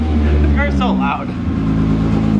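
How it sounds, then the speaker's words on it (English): A car's loud engine drones steadily and close while driving, with a constant low rumble throughout and a voice speaking briefly over it. "car's so loud"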